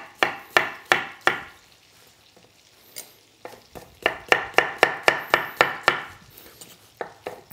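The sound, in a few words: knife slicing zucchini into large pieces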